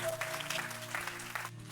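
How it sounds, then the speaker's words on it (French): A congregation at a Sunday church service claps in sustained applause, with faint tones of instruments humming underneath. "Est-ce qu'on peut acclamer pour cet homme?"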